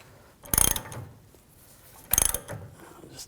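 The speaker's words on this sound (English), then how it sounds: "I'll just tighten this down." A ratchet clicks through two short bursts of rapid pawl clicks, close and loud, while tightening a bushing press tool that pulls a rear control arm bushing on a 2007-2013 BMW 328i, with quiet pauses between strokes.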